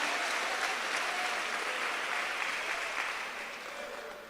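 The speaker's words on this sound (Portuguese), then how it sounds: "dá um glória, aplaude ao Senhor" Church congregation applauding during a sermon, a dense steady wash of clapping from many hands that fades slightly toward the end.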